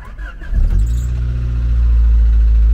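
A Honda Prelude BB2 engine running rough with a knocking sound, catching after a brief start and settling into a loud, close, low idle that carries on steadily.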